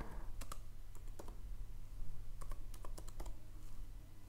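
Someone types on a computer keyboard, entering a search into a Chrome browser on a Mac. Quiet, close key clicks come in short bursts with pauses between them, over a steady low background hum.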